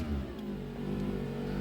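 The left electric power window motor of a car runs with the engine off, labouring slightly as it wears out. It gives a steady, close whirring hum with a low droning tone that holds without pause, and no voices.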